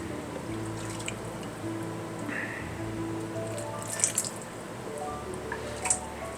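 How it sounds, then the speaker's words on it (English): Chicken stock poured from a big pot lands with soft drips and wet splashes, faint and uneven, with a few louder plops near the end. "and we're going to pour some in here."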